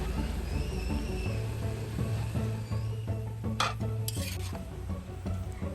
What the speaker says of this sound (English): the ladle lifts up the pancit and drops it so to separate the threads